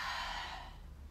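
A single soft exhale of breath during a yoga flow, brief and airy, close to the listener and fading away quickly with no speech over it.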